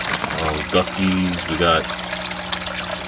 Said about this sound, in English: there's a water pump, and it shoots out to the fish tank